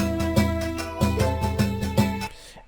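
The same video game percussion loop, downsampled for a gritty 8-bit lo-fi crunch, repeats its steady pattern of punchy hits over sustained tones before stopping abruptly.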